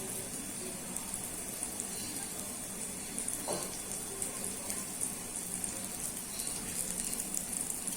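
Dry red chillies and panch phoron frying in hot oil in a kadai, a steady dense sizzle and crackle throughout, close and fairly loud, with no voices.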